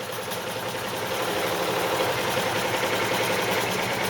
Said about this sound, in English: this is sewing with Happy's 7-needle Journey machine